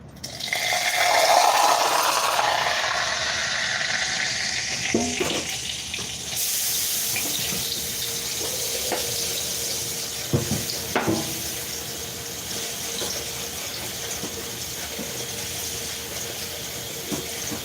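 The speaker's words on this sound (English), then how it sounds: "we didn't wash the bottom of the pan out, but I'm going to do that" Tap water runs steadily into a kitchen sink while the bottom of a frying pan is rinsed out, with a continuous close splashing wash and a few brief knocks of the pan.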